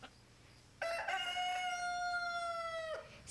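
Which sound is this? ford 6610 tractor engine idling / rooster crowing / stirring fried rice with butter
rooster crowing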